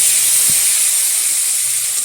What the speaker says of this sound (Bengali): এখন দিয়ে দেবো এর মধ্যে রুই মাছের মাথা